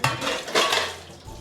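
Metal momo steamer pots clank and scrape as they are handled in a home kitchen, with a few close, bright knocks and a lighter rattle trailing off.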